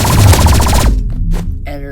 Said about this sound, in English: So, you can grab some, I'd suggest energy pistols, and anything else, and shoot